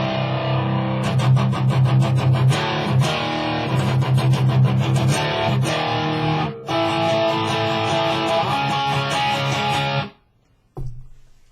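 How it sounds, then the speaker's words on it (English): Electric guitar with a light overdrive crunch plays strummed chords and picked riffs, steady and close, then stops abruptly with a brief final strum. "light distortion"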